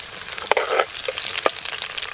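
Green chillies hitting hot oil with onions for a prawn curry, a steady sizzle punctuated by a few sharp stirring clatters near the start and middle, close and moderately loud.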